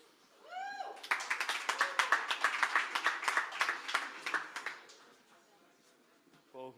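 Audience at a startup pitch night applauding as a presenter comes to the stage, a burst of clapping building quickly, then thinning out and fading, followed by a short voice at the end.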